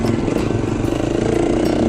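A 2011 KTM 350 XC-F dirt bike engine revs hard on a muddy Utah trail, giving a loud, buzzing, high-pitched drone with a rapid pulsing beat close up for a couple of seconds.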